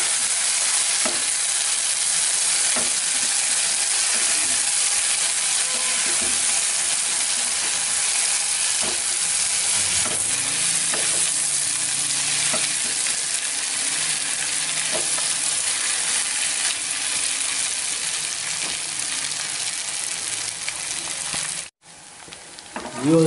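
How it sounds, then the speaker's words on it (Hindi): Cubed potatoes stir-fried in a pan, a loud continuous sizzle with scattered spatula scrapes and knocks, ending in a brief drop and a clatter. "ये आलू जो है वो भुन गए हैं।"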